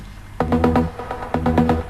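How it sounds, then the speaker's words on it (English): Bright uplifting-trance synth plucks with a wide, detuned shimmer play in two quick bursts, trailing off with echoing delay and reverb. "It's just a simple detuned trancey sound with some delay and reverb."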